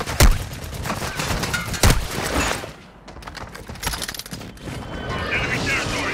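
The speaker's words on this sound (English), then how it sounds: "Hostile airstrike incoming." Gunfire and an incoming airstrike in the Call of Duty: Modern Warfare II video game: sharp close shots at the start, then a dense clatter of distant fire and rumbling impacts, with game radio voices over the top.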